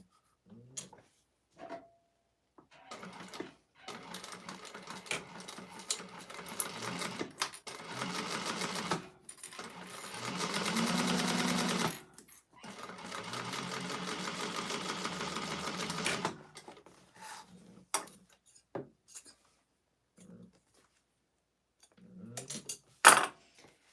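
A sewing machine stitches the interior pieces of a clutch wallet in several close bursts of rapid mechanical whirring, the longest lasting a few seconds, separated by pauses filled with light clicks and handling noises.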